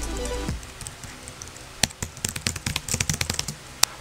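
Typing on a Logitech K580, a slim keyboard with flat, quiet keys: a run of light, quick key taps of uneven rhythm, close and moderately loud, after a brief low thump at the start.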